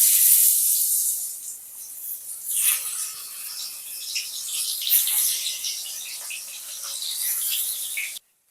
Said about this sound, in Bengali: এবার টুকরো করে কেটে রাখা আলুগুলোকে ভেজে নেব